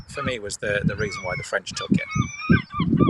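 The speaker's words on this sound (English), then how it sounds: "We hear the seagulls in the background as well." Seagulls call in the background at Dover Castle during an outdoor broadcast, a honking, goose-like squawking that rises briefly through continuous close talk.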